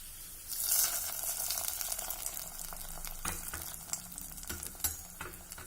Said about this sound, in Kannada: ಈಗ ಇದನ್ನು ಪಾಯಸದ ಜೊತೆ ಮಿಕ್ಸ್ ಮಾಡ್ತೀನಿ.